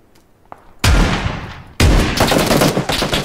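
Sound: gunfire in a video game

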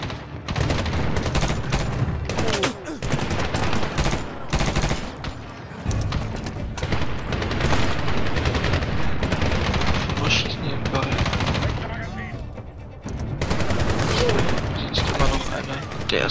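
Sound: gunfire in video game Medal of Honor

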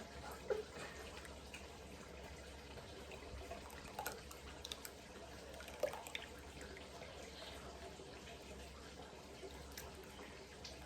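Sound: straining soaked tamarind pulp liquid

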